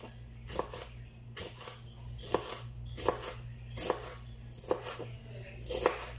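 A knife chops tomatoes on a board in a home kitchen, making about eight sharp, evenly spaced cuts at close range over a low steady hum.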